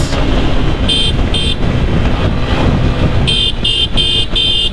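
A TVS Apache RTR 160 4V motorcycle accelerates with a steady, loud engine drone and rising pull, joined by short bursts of high-pitched tones that sound like horn toots or beeps near the end.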